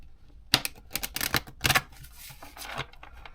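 A quick run of dry clattering clicks and knocks as rune stones are shuffled together, in uneven bursts close by, then quieter rustling.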